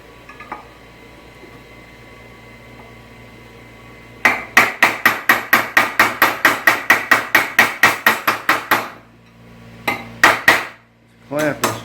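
A hammer strikes a chisel on a metal quarter window bracket for a 1965 Thunderbird convertible, landing about twenty sharp, evenly spaced ringing blows in a quick run, then a few more hits after a short pause.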